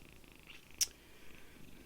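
A cat resting on a lap purrs softly and steadily, very faint and close, with one brief sharp click partway through and no talking.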